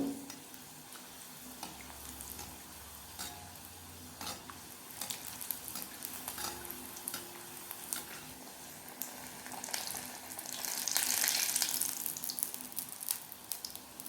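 Potli samosas deep frying in hot oil over a medium flame, a continuous bubbling sizzle with occasional stirring clinks, swelling louder toward the end.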